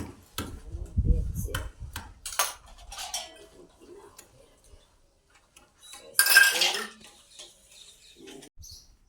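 Dishes and steel utensils being washed and scrubbed by hand at home, with scattered clinks and clatters, a louder burst of scrubbing and splashing midway, and quiet gaps between.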